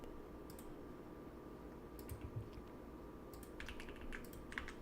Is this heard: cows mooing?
no